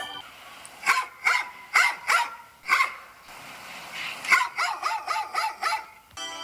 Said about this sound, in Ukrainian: Так, це собака.